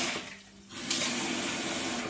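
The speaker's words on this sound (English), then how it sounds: "weight rice, and then I will put the amount of water that I need" Water streams from a tap into a pot of weighed rice for a rice cooker, a steady close rushing that dips briefly and then returns fuller.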